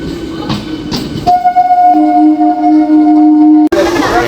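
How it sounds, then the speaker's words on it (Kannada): A train pulls out from platform 2 of a railway station, its horn sounding as a long, steady tone over station bustle before ending abruptly. "ಟ್ರೈನ್ ಬಿಡ್ತು ಗಾಯ್ಸ್"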